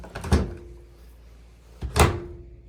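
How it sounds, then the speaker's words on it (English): A Maytag washer door is shut twice, each closing a soft thud with a light latch click, the two separated by about a second and a half of quiet room tone. "after that you close your door"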